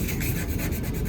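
Sandpaper scrapes rust off the front bumper of a 2004 Ford F150 FX4 in a quick, close, gritty rubbing stroke with fast repeated texture.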